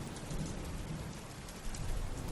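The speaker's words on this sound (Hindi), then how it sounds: "बारिश बहुत ही तेज़ हो रही थी" Heavy rain pours down late at night, a dense, steady roar of drops with no pauses and no voices.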